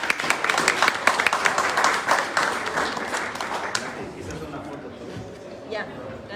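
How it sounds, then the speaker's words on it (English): Audience applause for speakers at a COP28 climate event: dense clapping with light chatter for about four seconds, then dying away into murmuring voices. "Let's give a big applause for all of them."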